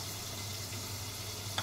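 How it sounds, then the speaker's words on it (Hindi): Pointed gourd (parwal) sabzi fries in a pan with spices, a faint, steady low sizzle that holds evenly throughout, with no voices. "उधर सब्जी हमारी फ्राई हो रही है।"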